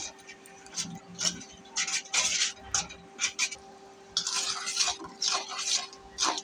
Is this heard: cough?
no